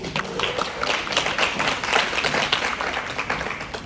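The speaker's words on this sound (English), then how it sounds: "Good clap." An audience at a university Muslim students' welcome dinner claps continuously, a dense, even patter of many hands that holds steady for a few seconds.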